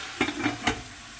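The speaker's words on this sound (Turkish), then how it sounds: "Pazılarımızı da bu şekilde biraz kavrulmasını bekleyeceğiz." Swiss chard being stirred as it sautés in olive oil in a covered pot, with a few soft scraping stirs and light sizzling at low level, no talking.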